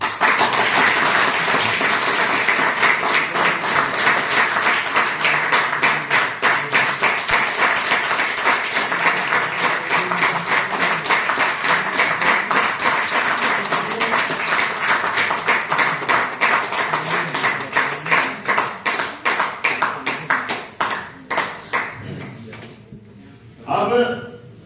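Sustained audience applause at a business event in Hisar, Haryana: loud, dense clapping from a crowd that continues for over twenty seconds, then thins into scattered claps and fades out.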